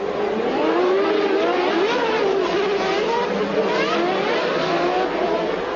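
A 1995 Formula 1 race car at Monaco, its high engine note sweeping up and down through gear changes, loud and continuous with a steady whine throughout.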